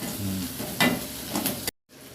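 Chopped onion and curry leaves sauté in a pan for Madurai-style kara chutney. A steady, close sizzle with stirring scrapes runs for about two seconds, then cuts off into a short silence before the frying noise returns.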